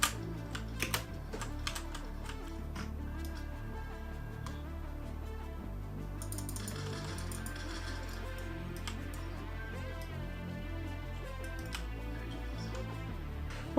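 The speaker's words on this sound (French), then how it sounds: "Si j'essaye maintenant sur clavier." Fingers type on a computer keyboard hooked to a Raspberry Pi running Android for cloud gaming, a steady run of close, quick clicky keystrokes with game sounds faintly underneath.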